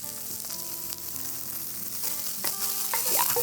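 Ratatouille vegetables tossed into a hot pot, a dense hiss of sizzling that builds louder toward the end, with a few stirring knocks, close and without voices.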